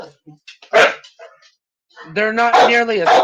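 A dog barks sharply in the first half, then breaks into a drawn-out, whining howl near and loud, with a person's voice briefly audible alongside.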